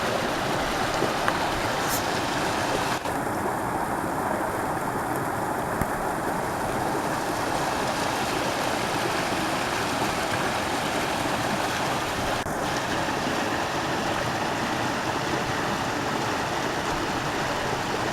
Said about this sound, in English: It's right here by this waterfall, or mini waterfall.